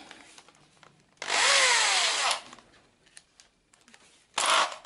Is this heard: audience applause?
no